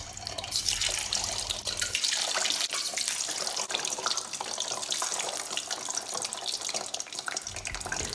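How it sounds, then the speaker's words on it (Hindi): Eggs deep fry in hot oil over a high flame, giving a continuous, dense crackling sizzle with rapid pops that stays loud and even throughout. "तेल जो है गरम हो चुका है और अब हम इन्हें फ्राई करेंगे"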